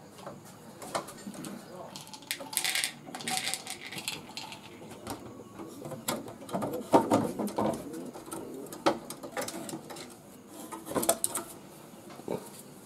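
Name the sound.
pigeons cooing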